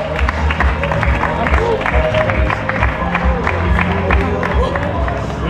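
Crowd applauding and cheering at the award ceremony of a Ripollet 10k road race, steady loud clapping with whoops mixed into a murmur of background voices.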